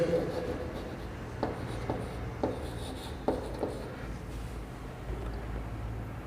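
A maths integral is written out by hand during a Class XII lesson. Several short scratchy pen strokes come in quick bursts at close range over a low background hum, with a faint voice beneath.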